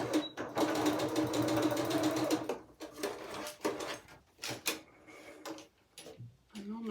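A sewing machine back tacks fabric on a freezer-paper quilt house block, whirring steadily up close for a couple of seconds, then giving way to scattered clicks and taps with a voice speaking in between.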